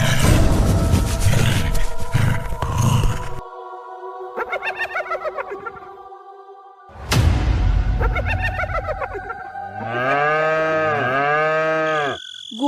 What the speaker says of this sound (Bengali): গোয়ালে গরুগুলো এমন চিল্লাচ্ছে কেন বলো তো?